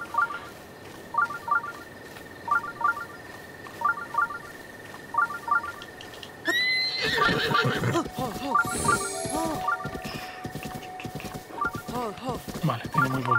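In Zelda: Breath of the Wild, near Eldin Tower, a horse whinnies in repeated bursts over game music, then hooves clatter and thump up close as a person talks.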